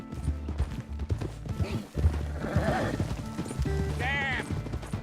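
Horse hooves clop steadily in Red Dead Redemption 2, with a rising whinny near the end, under someone talking over the game sounds.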